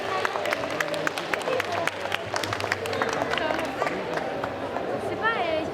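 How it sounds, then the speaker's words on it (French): A crowd at a cosplay conference in Mulhouse breaks into applause for four cosplayers, with scattered clapping and cheering mixed with background chatter and voices. "Un tonnerre d'applaudissements!"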